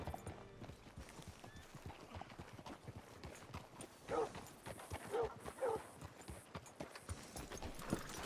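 Horse hooves clip-clop in Red Dead Redemption 2, a steady, faint stream of mixed hoofbeats with a few brief whinny-like cries rising midway, while voices talk quietly alongside.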